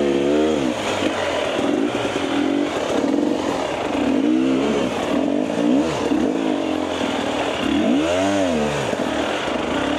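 A motorcycle engine revs and drones continuously while riding, rising and falling in pitch with repeated throttle swells, loud and close, with wind and clatter mixed in.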